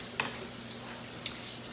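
Chicken cutlets browning in a pan give a soft, steady sizzle, with two brief scraping clicks of a utensil against the pan, faint and close.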